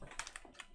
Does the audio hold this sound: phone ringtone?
no